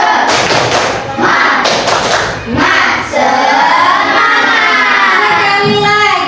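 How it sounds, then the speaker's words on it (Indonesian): Classroom students doing a rhythmic spirit clap, loud patterned clapping and thumps with children's voices shouting along, followed by a teacher speaking. "Kita tepuk semangat dulu biar lebih semangat ya."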